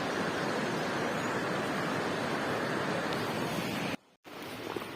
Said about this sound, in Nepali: अनि यता खोला पनि छ